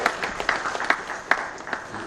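Audience applause at a government technology summit, dense close clapping from a crowd, steady and lively throughout the short burst.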